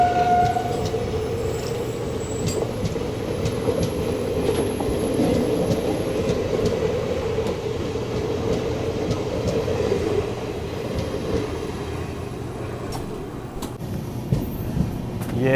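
Train noise at Piploda Bagla railway station, a station under construction, on the Mumbai Indore Duronto Express route: a steady loud rumble of rolling wagons runs throughout, with faint squeals and brief high tones above it.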